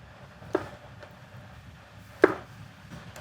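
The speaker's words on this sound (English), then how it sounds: "this stem part is extra hard, so I'm cutting that right off" A knife cuts through the hard stem of a king oyster mushroom on a board, giving three sharp, isolated chops spaced apart against a quiet background.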